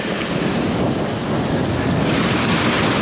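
Steady broadband wash of ocean surf at a beach on the Outer Banks, waves breaking and rolling continuously close by, with a faint layer of wind buffeting the microphone.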